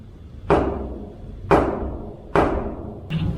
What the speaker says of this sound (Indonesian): Coba kita ketuk 3 kali,